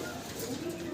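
Pigeons, including a breeding pair, coo softly in a low, murmuring tone, faint and continuous over a brief moment with some background noise.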